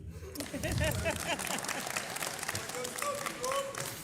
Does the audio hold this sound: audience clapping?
yes